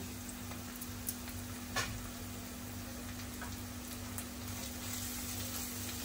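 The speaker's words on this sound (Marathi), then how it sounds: "तेलावरती पहिले चांगला परतून घ्यायचा" Squid rings frying in oil with turmeric and Koli masala, a steady soft crackling sizzle over a low electrical hum, with a couple of faint taps.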